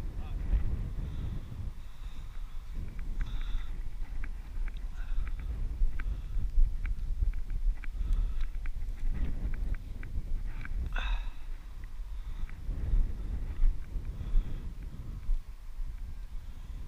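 Strong wind gusting across open rural land, a steady low roar and buffeting against the microphone that swells and eases throughout, with occasional voices in the background.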